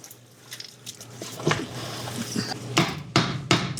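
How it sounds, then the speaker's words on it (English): A spoon stirring homemade dog food mixture with water in a cooking pot, giving a series of wet scraping knocks and squishes that come irregularly and grow louder near the end, close by with no talk. "Now I'll kind of stir this up a little bit just to make sure that nothing is sticking to the bottom."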